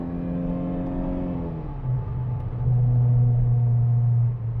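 A 1990 Peugeot 205 1.6 automatic fitted with motorbike carburettors revs while driving, its engine note climbing then dropping at a gear change before settling into a loud, steady drone, with no talk.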